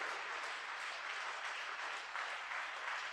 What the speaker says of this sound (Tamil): நம்புறவங்க கைத்தட்டி நன்றி சொல்லுங்க.